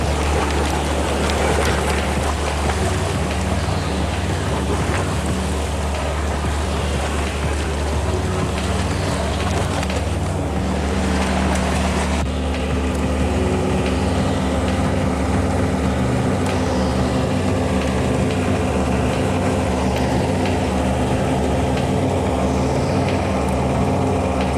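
A sailboat motors upwind under engine into oncoming waves, a steady low engine drone running throughout, overlaid with wind rush and water slapping against the hull, loud and continuous with no talk.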